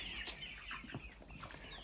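A rooster or hen clucks softly in a quiet farmyard, a few short calls with faint rustling, distant and low in level.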